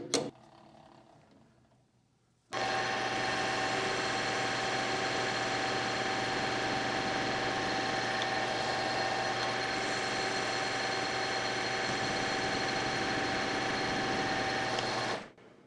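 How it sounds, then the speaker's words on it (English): A 14x40 metal lathe facing stock starts up after a near-silent pause, then settles into a steady, even mechanical hum with a constant whine that runs for over ten seconds before cutting off. "Let me show you the steps involved in facing this material on my 14x40 lathe"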